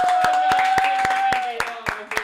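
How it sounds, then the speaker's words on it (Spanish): A few people in a podcast studio clap along in a quick, regular rhythm, the crisp hand strikes sounding close over a sustained musical tone and a voice in the background. "Aplaudan, aplaudan."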